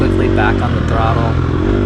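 Off-road dirt bike engine held on the throttle during a race, a loud, steady, buzzing drone with a slight rise in pitch, running close throughout.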